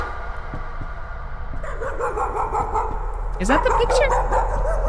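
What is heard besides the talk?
dog barking in the video game Layers of Fear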